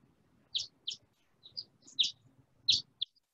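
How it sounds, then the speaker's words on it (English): Short bright bird chirps and tweets in a combined soundscape with road traffic, about seven calls scattered over a quiet, low rumbling background of distant traffic. "traffic noise and bird song."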